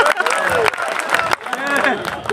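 Audience at a Hindi poetry gathering (kavi sammelan) in Sitamarhi breaks into steady clapping and crowd noise, with a performer's voice carrying over the applause throughout.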